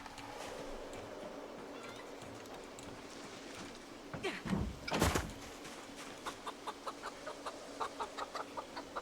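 A rooster makes odd vocal noises at close range, a brief louder burst of clucking mid-clip followed by a run of short, evenly spaced clucks, with faint background hiss.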